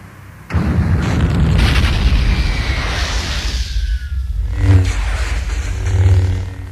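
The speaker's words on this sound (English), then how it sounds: "The cruiser started to explode." A huge starship cruiser blows up in a ball of fire: a loud, sustained roaring rumble that swells and rolls on, with a secondary burst of rumble toward the end.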